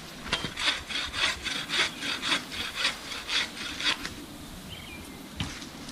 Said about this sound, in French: Il continue de scier vigoureusement.